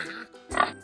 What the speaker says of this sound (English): It's a little piggy.